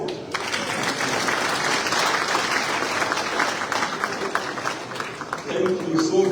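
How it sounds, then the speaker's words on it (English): An audience at the opening of a Mano River Union meeting breaks into sustained applause. The dense clapping rolls on steadily, and a voice begins speaking near the end. "This deserves another round of applause."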